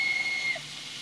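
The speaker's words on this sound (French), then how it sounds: "La vapeur." A steam locomotive lets out a thin, steady whistling hiss of escaping steam for about half a second. A softer, fainter hiss of steam continues after it.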